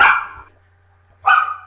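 Sadie the support dog lets out two loud, close barks separated by a short pause, with a low steady hum underneath and no talking.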